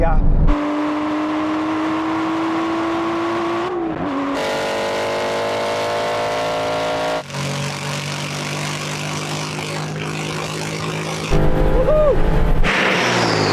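An Aston Martin race car accelerates hard in a drag race against a GT8. Its loud engine note climbs steadily through each gear, with clear upshifts around four, seven and eleven seconds.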